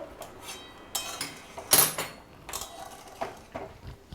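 A metal lid comes off a pot of boiling potatoes, with a few clanks and a bright rattling scrape of metal on metal, close up and with no one speaking.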